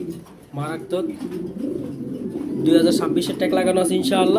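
A grizzle silver racing pigeon coos in soft, low, repeated calls close by, heard under someone talking.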